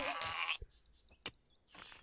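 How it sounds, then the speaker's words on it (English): A goat in the Ylands video game, out in a taiga setting, gives a short wavering bleat up close. A dull thump and a faint click follow, then a softer second bleat at the end. "Oh, you stupid goat. You're in the wrong place, wrong time."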